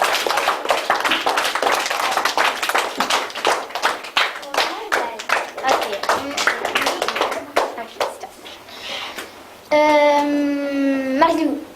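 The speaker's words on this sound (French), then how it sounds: "Là, vous pouvez applaudir." A small group, likely a class, claps in a brisk burst that thins into scattered hand claps, followed near the end by a sustained, tonal voice-like sound.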